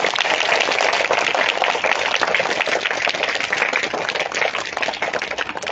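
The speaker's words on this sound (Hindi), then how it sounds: "कुसुम मैडम के लिए एक बार ताली हो जाएगी" Schoolchildren clapping together for a teacher in a classroom, a dense, continuous patter of many small hands held at a steady level throughout.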